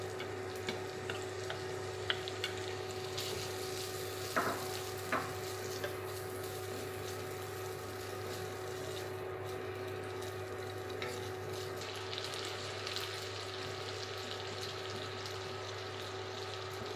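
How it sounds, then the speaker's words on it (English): Bacon fries in a pan for a creamy pasta, a faint continuous sizzle under a steady low kitchen hum, with an occasional clink of utensils and no talking. "Add the bacon and cook it through, letting it get a little bit of colour."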